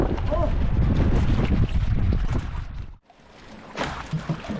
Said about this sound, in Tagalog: maririnig nyo yung hangin na malakas talaga